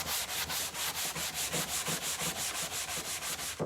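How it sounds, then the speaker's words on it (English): Hand scuffing a shiny chalk-transfer surface, a quick, even back-and-forth rubbing rhythm like light sanding, close and fairly quiet, with no talking. "I'm just like scuffing it up a little, not very much. Just so it's not so shiny."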